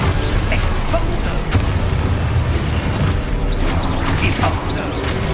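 The Exposo spell in Hogwarts Legacy sets off a continuous, loud, rumbling explosion with deep booms and crackling bursts, dense and close throughout.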